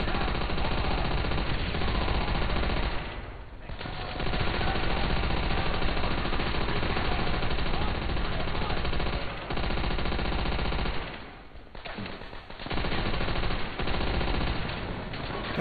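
A machine gun firing in the video game Call of Duty: World at War. Dense rapid bursts run for long stretches, loud and close, with a few brief pauses between them and faint talk now and then.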